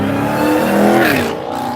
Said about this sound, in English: I still haven't fixed my air in my car. Y'all hear that?